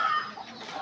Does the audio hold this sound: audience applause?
no